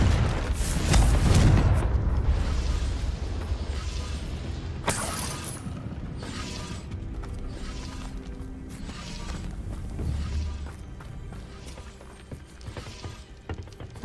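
A Confringo blast spell explodes in Hogwarts Legacy, a loud booming burst early on, followed by a sharp crack and rumbling, clattering game effects and ambience with no talking.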